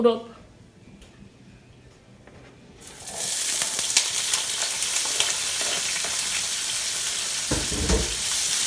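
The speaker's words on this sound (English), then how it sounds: "I just added a little bit of oil in my pot. Now I'm gonna add all my veggies" Vegetables hit hot oil in a pot for Jamaican callaloo: quiet at first, then a sudden loud, steady sizzle that continues with some stirring clatter, close by.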